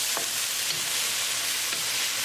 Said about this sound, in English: cook it on high flame until the mushrooms get tender. So keep it moving and keep cooking.